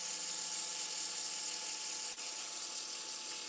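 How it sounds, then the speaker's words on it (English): A fountain pen blank spins on a wood lathe while sandpaper presses against it, giving a steady, high-pitched whirring and hissing hum. It stays loud and continuous, with one brief dip partway through. "So I'm going to keep my sandpaper moving, but I am going to focus a little more on the headstock end of the blank."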